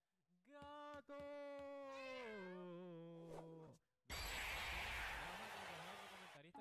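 A commentator at a Super Smash Bros. tournament imitates a cat meowing, with a long, drawn-out vocal meow that falls in pitch, followed by loud crowd-like noise or shouting.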